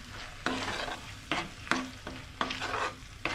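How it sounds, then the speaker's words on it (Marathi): Tomato and cashew paste stirred into frying onions for egg lababdar, a spoon scraping the pan in five or six quick strokes over a steady close sizzle. "ही सुद्धा व्यवस्थित आपल्याला ढवळून घ्यायची आहे।"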